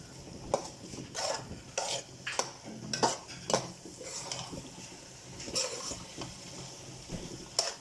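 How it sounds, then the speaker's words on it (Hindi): Grated carrot halwa with khoya being roasted in desi ghee, stirred with a spoon that clinks and scrapes against the pot in irregular bursts over a faint sizzle, fairly quiet and close. "अब इसमें डालेंगे देसी घी, साथ से इसे भूनेंगे अच्छी तरीके से ताकि खोया भी अच्छी तरीके से मिक्स हो जाए"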